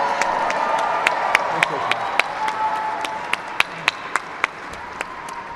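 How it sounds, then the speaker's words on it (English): Audience applause at an inauguration celebration event, a steady wash of crowd clapping with sharper individual claps standing out at regular intervals, moderately loud and continuous throughout. "Give them a round of applause."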